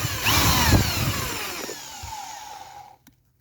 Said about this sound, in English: now I'm going to use the step drill and get the right